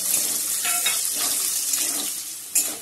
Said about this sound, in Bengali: গাজরটা ভেজে নেব আগে